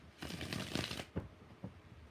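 Tarot cards being shuffled at close range, a quick run of riffling bursts followed by a couple of short, softer flicks as the deck settles, with no talking.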